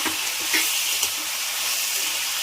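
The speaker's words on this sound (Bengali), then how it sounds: "ভালোভাবে এইরকম 3-4 মিনিট কষাতে থাকতে হবে।" Potatoes with ginger sizzle and crackle in a hot pan while being stir-fried, a continuous close frying hiss with a few soft stirring knocks.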